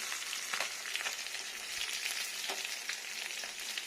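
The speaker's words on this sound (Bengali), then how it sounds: "মাছ খুব স্ট্রং করে ভাজতে হয় এটা গরম গরম মাছ ভাজাটা খেতেও টেস্টি" Fish fry in hot oil in a steady, soft crackling sizzle with scattered pops, close but fairly quiet and uninterrupted.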